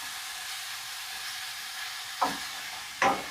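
Steady sizzling of onions frying in a pan, with two brief scraping stirs near the end.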